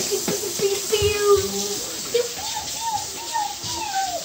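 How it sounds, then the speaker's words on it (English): Hot water running from a kitchen tap as children wash their hands, a continuous close hiss of flowing water beneath a mother's and kids' voices talking. "turn on the hot water too"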